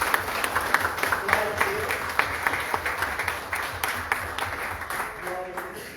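A church congregation claps together in a rhythmic, fairly even round of applause during a service, while a voice speaks briefly over the clapping.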